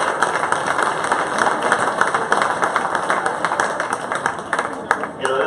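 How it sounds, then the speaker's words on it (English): Audience applause at a 2017 county 4-H fair swine show: dense, steady clapping from a crowd that holds at a fairly loud level for the whole stretch. "let's go ahead and give all these exhibitors a real big round of applause"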